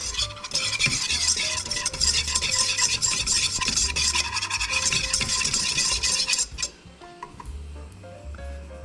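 Flour stirred into hot, smoky sizzling butter in a pan to start a bechamel, giving a steady close scraping and sizzle with light clinks that thins out toward the end.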